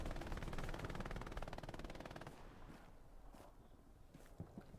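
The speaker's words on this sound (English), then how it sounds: "here's where the MG is shooting" Machine gun fire in the online shooter Hell Let Loose, a rapid, dense burst of shots for about two seconds that then trails off into scattered quieter thuds and battlefield noise.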